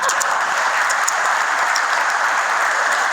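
An audience at a stage event claps in a dense, steady burst of applause that stays loud and even from start to finish, with no voices over it.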